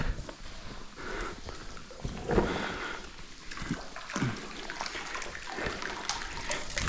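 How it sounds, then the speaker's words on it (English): Faint rushing water from a waterfall inside a deep crystal cave churns steadily in the background, with occasional clunks and shuffling footsteps nearby. "Definitely a waterfall going back here."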